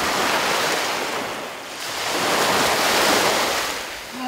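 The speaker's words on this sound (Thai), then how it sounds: "ลองฟังเสียงคลื่นดูสิคะ" Surf breaks on the beach at Hua Hin, Thailand, a continuous loud wash of waves swelling and easing in two broad surges, with wind buffeting the microphone and no voices.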